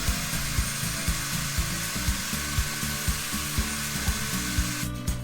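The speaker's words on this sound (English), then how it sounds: "And here I'm just cutting off the tips of the dowel so that they'll fit inside of the legs." Wooden dowels trimmed at the tips to fit into the legs of an oak and rush footstool: a quick, regular series of sawing or grinding strokes, close and steady, with no one speaking.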